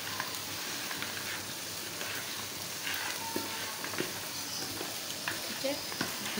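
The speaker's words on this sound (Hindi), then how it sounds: "इसको हम फ्राई करते हैं।" Egg-and-cornflour-coated mutton masala chops frying in a pan, a steady soft sizzle with occasional pops and crackles, fairly quiet and close.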